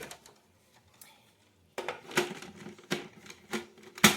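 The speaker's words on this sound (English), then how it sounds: "So we're going to go ahead and run it through the food processor" Food processor chopping Christmas jam fruit: a quiet rattle, then a run of sharp, clattering pulses in quick bursts, close and fairly loud.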